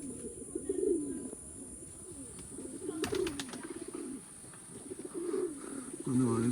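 Pakistani pigeons cooing in low, repeated warbling phrases at moderate volume, with a brief rustle midway and a constant background hiss.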